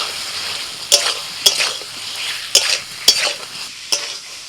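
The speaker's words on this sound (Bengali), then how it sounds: "মশলা কষানো হলে দিয়ে দিচ্ছি ভাজা আলু।" Fried potatoes stirred into a frying spice masala in a Bengali kitchen: about five sharp spatula knocks against the pan, spaced irregularly over a loud, steady sizzle.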